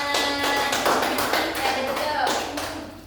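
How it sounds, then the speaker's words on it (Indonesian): Applause from a class during a microteaching lesson on states of matter: a short burst of hand clapping from a small group, dense and steady for about three seconds before tapering off, with some voices mixed in. "Tepuk tangan."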